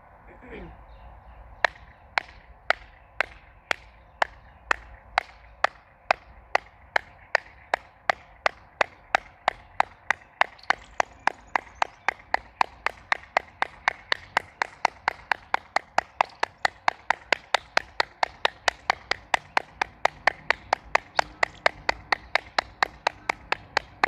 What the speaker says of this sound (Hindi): हाथों के एक्यूप्रेशर पॉइंट्स को दबाने के लिए हम ताली बजाने वाली क्रिया करेंगे